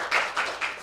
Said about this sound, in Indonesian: Tepuk tangan untuk Pak Sirsan Budiono.